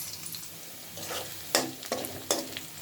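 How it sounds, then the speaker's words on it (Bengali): Onions frying in oil in a pan, a quiet continuous sizzle broken by three or four sharp spatula scrapes toward the end, close-up and without speech. "এই পেঁয়াজগুলো খুব ভালোভাবে ভেজে নিছি"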